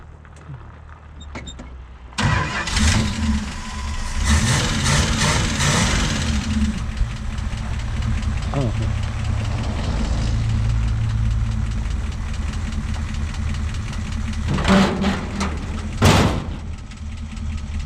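A 1965 Plymouth Fury II wagon engine cranks and catches around two seconds in, then settles into a steady, rough idle that runs on, with a few brief knocks and creaks near the end.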